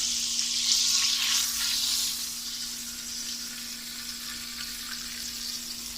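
Spices tempering for green chicken karahi sizzle and crackle in hot oil, loud at first and then settling into a steadier fry, with a faint hum underneath.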